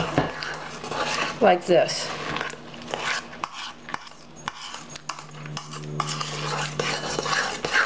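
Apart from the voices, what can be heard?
spoon gently folding cookies and cream cupcake mixture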